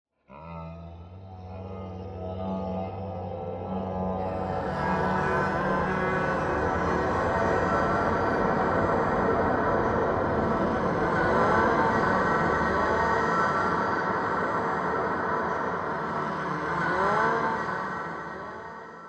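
A dense, swelling ambient synth drone, the Pedal Wash patch from Siren Songs Labs, with layered sustained tones and a roaring wash that builds and holds, then gently fades.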